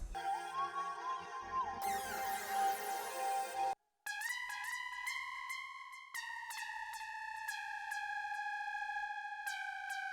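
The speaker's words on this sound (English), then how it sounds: "it's just like a descending little lead pattern" A bright Crystal Serum synth lead plays a stepwise descending pattern of sustained tones, following a brief noisy swell and a short gap, with no voices.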